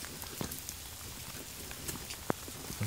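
Rain falling steadily in a yard during a storm, a soft continuous hiss with scattered close drips and taps, no one speaking.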